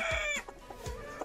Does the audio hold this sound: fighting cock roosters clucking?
yes